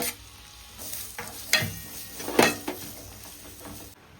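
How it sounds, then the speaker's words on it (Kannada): Onions dropped into hot oil in a home kitchen, sizzling in uneven bursts with a couple of louder stirring or pan knocks, close up and without talk. "ಈಗ ಉಳ್ಳಾಗಡ್ಡಿ ಹಾಕಾಕತ್ತೀನಿ ನಾ ಎಣ್ಣೆ ಒಳಗೆ"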